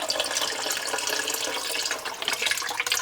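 Vegetable stock pouring into a soup pot, a steady close liquid splash and trickle that runs without a break, with no voices.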